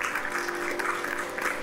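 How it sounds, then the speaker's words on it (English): An audience at a healthcare awards ceremony applauds with steady clapping that fills the short moment and sounds moderately distant, with no speech over it. "Can we have a round of applause,"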